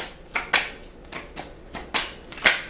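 Tarot cards shuffled and drawn by hand: a series of crisp, papery riffles and slaps, about six short bursts spaced through the clip, close and fairly quiet, with no talking.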